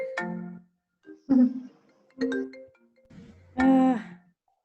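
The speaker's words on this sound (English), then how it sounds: "Of course I get a phone call." A phone ringtone from an incoming call plays as a series of short musical chime bursts separated by pauses, fairly clear and close, with no talking over it.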